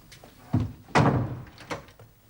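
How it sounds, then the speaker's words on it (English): An interior door swings shut with a solid thunk, preceded by a lighter knock-like impact and followed by a soft trailing tap, close and fairly loud in a quiet room. "And shut the door."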